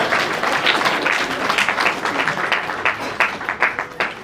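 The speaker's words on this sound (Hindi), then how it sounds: "यीशु की महिमा के लिए तालियां बजा रहे हैं हम" A church congregation claps together in praise, a brisk, rhythmic pattern of many hands beating in near-unison, fairly loud and close, with no talking over it.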